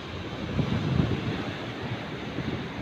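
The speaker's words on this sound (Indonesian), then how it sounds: "Tuh, ombaknya lagi gede banget sampai basah ini." Large waves break on Karapyak beach at Pangandaran, a steady roar of surf mixed with gusty wind buffeting the microphone, loud and close with no talking.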